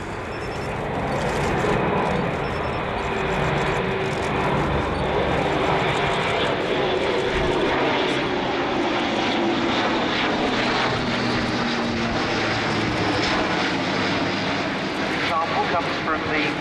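A four-engine turboprop Airbus A400M military transport flies past at an air display, a loud, steady engine drone holding throughout, with faint speech mixed in beneath it.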